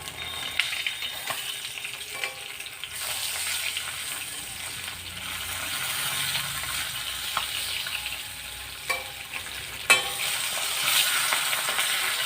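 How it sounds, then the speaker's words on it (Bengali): Parshe fish frying in hot oil in a pan, a continuous close bright sizzle with scattered pops and a few utensil clicks, no voices. "মাছগুলো আমি একে একে ভেজে নেব।"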